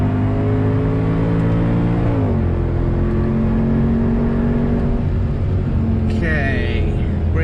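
Mercedes W204 C63 engine climbing uphill in a racing sim game: a loud, droning V8 tone holds steady, dips with a gear change, then resumes under someone talking throughout.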